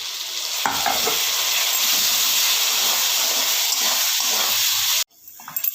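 Chopped tomato hitting hot oil in a pan with onion and chili, a loud, dense, continuous sizzle close up that holds steady and then cuts off abruptly near the end, followed by quieter crackling.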